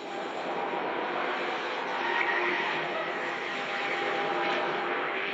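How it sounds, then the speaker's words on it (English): Synthetic city ambience with a steady, loud traffic roar of cars moving past, forming a dense continuous wash that swells slightly midway; birdsong is not clearly picked out above the din. "the image is converted into a video with sound, birds chirping, cars moving"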